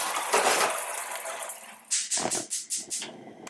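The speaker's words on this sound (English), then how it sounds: "Okay, so I'm going to go ahead and rinse these off." Yams being rinsed under a running kitchen tap, a close splashing water stream at first, then a series of short uneven splashes and knocks as the yams are turned and handled under the flow.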